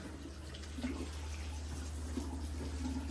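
A kitchen tap runs steadily during cooking of white chana pulao, a faint, even rush of water over a low hum with no voices.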